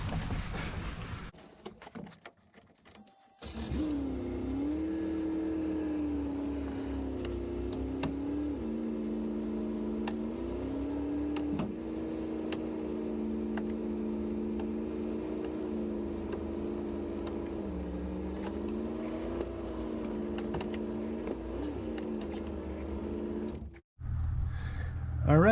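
A Ford E250 van engine idles steadily while the transmission is run through each gear, its low hum dipping and rising slightly with each shift, with brief clatter at the start and end.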